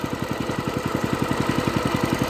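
A walk-behind tractor engine mows grass on a steep hill, chugging in a fast, even rhythmic thump close by, with a steady mechanical drone and no speech.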